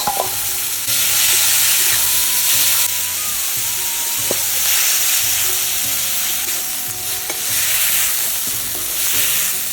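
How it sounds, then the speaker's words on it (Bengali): Shrimp frying in hot oil in a home kitchen, destined for a banana-flower dish: a loud, continuous hissing sizzle with bubbling crackles that swells and eases over roughly ten seconds. "তেল দিয়ে দেই, মাছ কাটা ভাইজে নেব"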